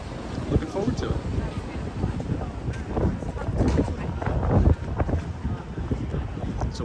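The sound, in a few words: wind on a night street in Amsterdam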